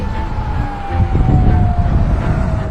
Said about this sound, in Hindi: पूरे देश भर में सायरन्स बजने शुरू हो गए थे।